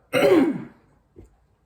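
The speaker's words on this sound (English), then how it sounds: "I'm already like clearing my throat." A single throat clearing, close and fairly loud, followed by a faint short rasp, then quiet.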